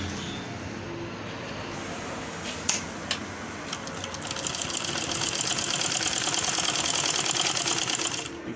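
A manual sewing machine stitching through fabric, its mechanism setting up a steady rapid clatter after a couple of isolated clicks, fairly close and continuous.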